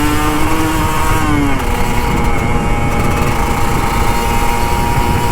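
Kawasaki Ninja RR 150 two-stroke motorcycle revving on a Jakarta street, a loud, continuous buzzing engine note that rises and falls as the throttle is worked, close and dominant throughout.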